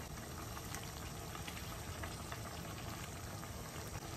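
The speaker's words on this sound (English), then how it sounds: "This has been simmering for about 10 minutes." Vegan lentil bolognese simmering in a pan, a faint, steady bubbling hiss that runs evenly throughout without talking.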